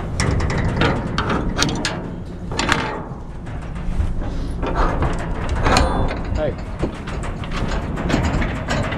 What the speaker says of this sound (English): the door's gonna come back in